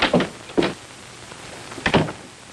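An office door in a 1949 film noir is handled with a few separate thuds and knocks, close and clear, spaced across a couple of seconds over quiet room tone.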